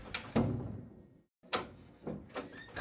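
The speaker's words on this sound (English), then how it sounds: "Closing the door." A door is shut indoors: a couple of soft knocks and rattles, a short silence, then a firmer thud of the door closing with light handle clatter, close and fairly quiet.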